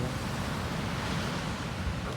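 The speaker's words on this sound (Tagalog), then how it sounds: "Nakita yung dagat dito." Sea waves wash in continuously at Monterey Bay under foggy conditions, a dense, steady roar of surf mixed with wind buffeting the microphone, with no talking.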